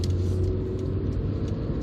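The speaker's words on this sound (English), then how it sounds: "It's not the nicest sounding engine ever, this D-Series. It's a little bit flat sounding perhaps" A 1995 Honda Civic EG4 1.5 LSi automatic with a D-Series engine pulls away from a roundabout, a close, loud, flat-toned engine drone with steady rumble heard from inside the car.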